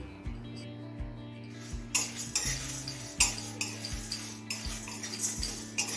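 Whole spices (bay leaf, small cardamom, cinnamon, mace and cumin seeds) frying in oil in a karahi for chicken, with metal utensil clinks and scraping over a low steady sizzle, no talking.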